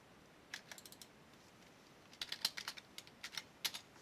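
Fast bursts of keyboard typing: a few scattered key clicks, then a denser run of crisp, close keystrokes in uneven rhythm, with no voices.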